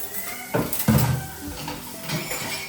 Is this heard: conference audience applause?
no